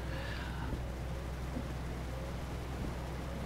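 Continuous soft rain noise in Euro Truck Simulator 2 (Go East DLC), a steady wash with a low engine rumble underneath, no talking.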